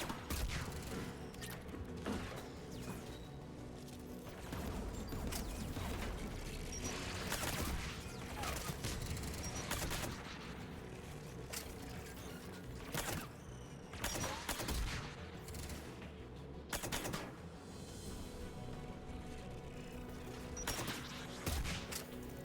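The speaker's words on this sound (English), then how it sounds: "There, the anti-aircraft guns." Anti-aircraft guns in Mass Effect 3 fire in dense, overlapping bursts and fusillades over about twenty seconds, loud and continuous, with sharp crashing reports standing out from a steady mechanical rumble.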